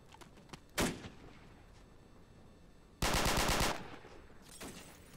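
Gunfire from snipers in the Arma 2 Operation Arrowhead Invasion 1944 setting: a single sharp shot, a quiet pause, then a dense rapid burst of cracks and one more distant-sounding shot over low background noise.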